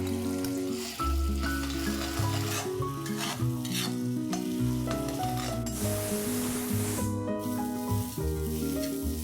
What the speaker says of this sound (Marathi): त्यात आपण एक मोठा कांदा बारीक वाटलेला घालून गोल्डन होईपर्यंत परतून घेऊया